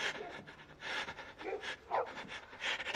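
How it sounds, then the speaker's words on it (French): Dogs belonging to a woodcutter pant outdoors, quick breathy bursts in an uneven rhythm, soft and somewhat close, with no voices over them. "Les chiens du veilleur à bois."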